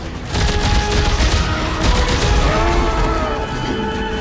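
Continuous dense gunfire in Dead Space 3, a loud, steady barrage of rapid shots and booms filling the whole stretch without pause and with no talking.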